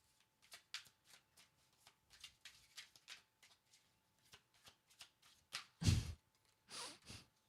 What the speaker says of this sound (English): I'm just going to pull cards and see what the cards say